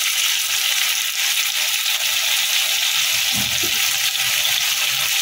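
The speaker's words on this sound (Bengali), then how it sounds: "সব কিছু দিয়ে ভালো করে কষিয়ে নেব।" Ginger, tomato, green chili and turmeric sauté in a hot pan for a Bengali vegetarian dish, giving a steady, even sizzle throughout with no talking.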